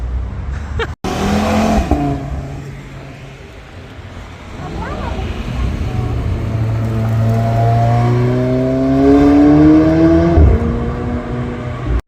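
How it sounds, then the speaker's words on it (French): A sports car approaches on a road from the distance, its engine rising into a growing, revving whine that swells louder and peaks near the end, with people talking over it. "Maintenant il y a une TBS qui arrive au loin"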